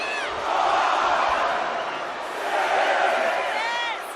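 A crowd cheering in the WWE 2K26 wrestling video game, with a sustained roar of voices that swells twice and is topped by high whistles and whoops near the end.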